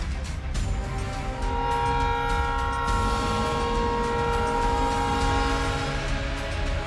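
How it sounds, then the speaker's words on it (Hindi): A train approaches at high speed close by while its horn blares a long, loud sustained chord over the steady roar of the wheels, on a railway track above a river. "हॉर्न बजाती हुई तेज रफ्तार से आती ट्रेन,"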